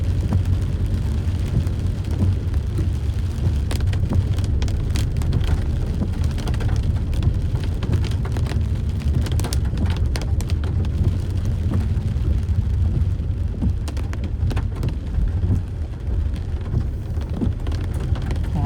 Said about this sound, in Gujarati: આ તમે જુઓ, આવો વરસાદ છે અહીંયા